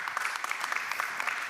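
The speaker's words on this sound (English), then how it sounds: "Yes, feel free to clap. Don't hold back." Audience applause in a conference hall, steady dense clapping from a sizeable crowd, moderately loud and continuous without voices.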